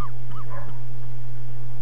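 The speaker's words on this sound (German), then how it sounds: "Oh, da bellt gerade mein Hund." A dog gives a few short, high yips and whines in the first moment, over a steady low electrical hum that continues alone.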